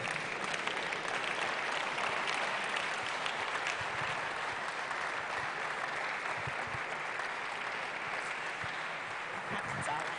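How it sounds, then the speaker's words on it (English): A standing audience at a seminar road show session in Kumasi applauds a speaker being welcomed, sustained dense clapping mixed with crowd chatter that holds steady throughout the ten seconds. "Ladies and gentlemen, please, with a big round of applause."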